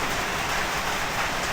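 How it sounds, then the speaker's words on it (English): Heavy rain drums steadily and loudly on a boat, a dense continuous hiss with no break and nothing else heard. "It's been raining for about 2 hours non-stop."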